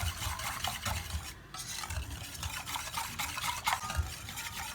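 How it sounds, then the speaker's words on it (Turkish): Dessert ingredients are whisked together with milk in a bowl for a caramel etimek dessert, making brisk rhythmic scraping and swishing strokes, close and continuous with a brief pause, with no talking. "Önce hepsini iyice bir çırpmamız lazım bütün malzemeleri."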